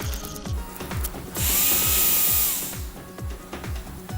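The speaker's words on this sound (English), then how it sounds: "Some 100 types of spare parts are made through manual and CNC lathe" Factory machining of motorcycle spare parts on manual and CNC lathes: a regular thumping mechanical cycle repeats about twice a second, with a sustained high whine rising over it in the middle before fading back.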